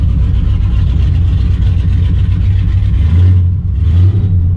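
A family car's engine runs loud and steady up close, a continuous low drone with brief shifts in pitch near the end as it idles and revs slightly.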